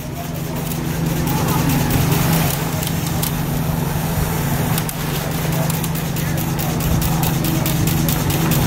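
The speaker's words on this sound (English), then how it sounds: "It's idling." A truck engine idles at a touch-a-truck event, a steady loud low rumble that carries on throughout with scattered wooden knocks and crackles on top.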